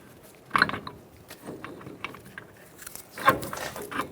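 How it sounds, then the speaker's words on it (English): A lower ball joint nut comes off a 2014-2018 Chevrolet Silverado 1500, with a few sharp metallic ratchet and wrench clicks and clanks spaced out over quiet shop background. "remove the lower ball joint nut"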